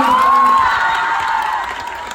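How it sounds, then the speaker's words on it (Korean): Loud cheering and applause from a fan-meeting audience, with a few whoops and high shouts over steady clapping that fades slightly toward the end. "다시 한번 큰 박수 한번 주시기 바라겠습니다"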